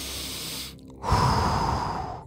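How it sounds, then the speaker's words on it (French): A single deep, audible breath drawn in after a brief silence, close and clear with no talking over it. "Prends une grande respiration"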